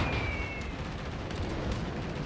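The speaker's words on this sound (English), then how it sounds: "There is at least 3 ships shooting at him" Heavy naval gunfire in World of Warships, with several ships including the Yamato and Stalingrad shooting at once; a loud, rumbling barrage of blasts fills the whole stretch without pause.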